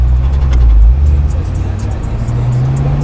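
A 1965 Ford Mustang classic car drives along in Winter Haven, Florida, its engine a loud, steady low rumble that swells briefly near the start before settling into a continuous drone with no talk.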